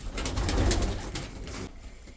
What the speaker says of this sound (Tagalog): Kulit mga ibon ko ah.